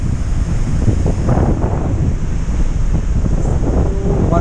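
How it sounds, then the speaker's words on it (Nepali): Strong rainy wind blows steadily and loudly across the microphone outdoors, a dense, continuous roar with a little rumble underneath and no gaps. "वर्षाको हावा लागिरहेछ"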